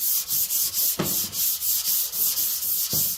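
Dry rubbing on rusty metal of a classic car, a steady rhythmic scrubbing with about a dozen back-and-forth strokes, close and fairly loud, with no voices.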